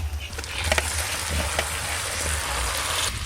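Chicken pieces hit hot spiced oil for chicken kosha, giving a steady, dense sizzle and crackle that fills the whole stretch, with a few louder spits and a voice talking faintly over it.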